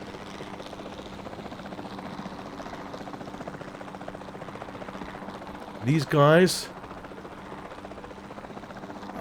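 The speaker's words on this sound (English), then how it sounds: "I can't get this fucking helicopter to turn around" A helicopter in the Jurassic World Evolution 2 game drones steadily throughout with a low rotor hum, while a voice talks over it and a short burst of rising tones cuts in near the middle.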